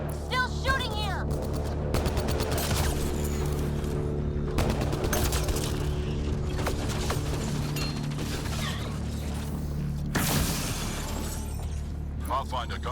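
Gunfire in Mass Effect Andromeda, scattered bursts of shots and impacts over a constant droning combat soundscape, with voices talking throughout.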